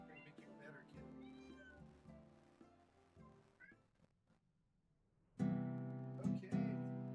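A sick pet cat lets out several meows, some drawn out and plaintive, with a loud, close yowl near the end, alongside quieter background sounds.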